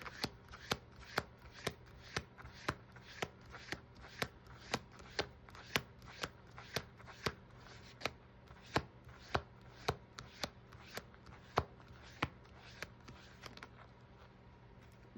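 Tarot cards are shuffled in a steady run of crisp, regular snaps, roughly thirty quick riffles close to the listener over a faint background hiss, with no talking.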